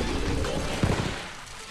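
Explosions burst in Plants vs. Zombies 2, a dense, noisy rumble with a sharper blast in the middle that fades away, loud and close with no talking over it.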